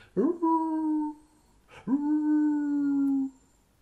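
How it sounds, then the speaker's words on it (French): A howl in the mountains, used as an audiobook sound effect: two long, mournful howls, each swelling up and then holding a steady tone, the second one longer. The howls are loud and clear, with no talking over them. "Puis ce fut un hurlement dans la montagne."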